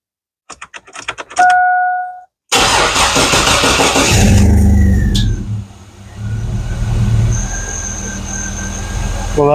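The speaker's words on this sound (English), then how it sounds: "I'm just gonna see if it cranks up" A 2002 Chevrolet Blazer engine cranks with a rapid rhythmic chugging, catches and roars to life, then settles into a steady idle rumble close by.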